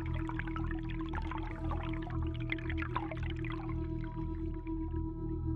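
Water pours and trickles steadily as part of a calm guided meditation on the four elements, a soft continuous splashing over a low, sustained droning tone, with no voices.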